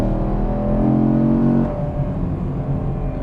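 A Chevrolet Camaro 1SS engine drones loudly and steadily, its pitch rising briefly as it revs under acceleration before settling back to a lower rumble.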